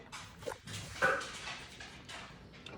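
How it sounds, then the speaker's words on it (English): A dog makes a few short, soft yelps and whimpering barks somewhere in the background, fairly faint and uneven. "That's my dog in the background."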